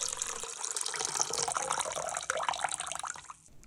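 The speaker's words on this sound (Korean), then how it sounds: "어느 정도 시간이 지나면 물은 따라내 주시고요." Soaking water pours off dried shredded squid in a kitchen, a steady close splashing stream of running liquid that stops abruptly near the end, with no talk.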